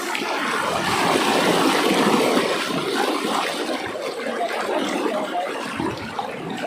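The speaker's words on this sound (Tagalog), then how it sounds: "Lakas ng agos ng tubig." A strong river current roars steadily and close by, a broad churning flow with no break, like a fast current over rocks.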